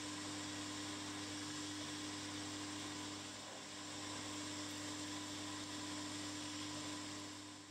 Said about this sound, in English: I now drill a series of 6mm diameter holes around the profile of the rounded sections of the coupling rods